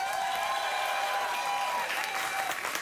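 A studio audience at a late-night talk show claps steadily and loudly throughout, a dense sustained wash of applause with a faint voice underneath.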